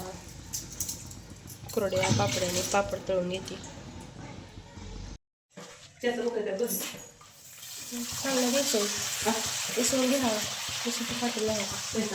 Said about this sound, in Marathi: आता तळण तळून घेते कुरोडी पापडी आणि भजी करून घेते